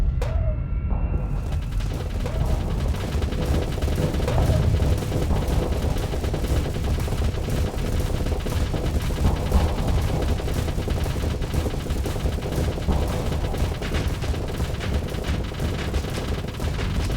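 A Gauss cannon fires in the space combat game Starsector amid a steady din of ship weapons, with repeated heavy booming shots layered over continuous rumbling battle noise and no voices.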